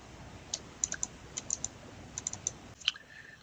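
Quiet computer clicks during Photoshop CC 2015 editing work, a scattering of light, crisp taps in small clusters at close range with no talking.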